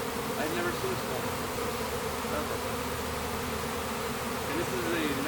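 A honey bee swarm bearding at the entrance while moving into a hive fills the air with a dense, continuous buzzing drone, close and steady throughout.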